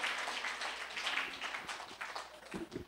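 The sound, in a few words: congregation applause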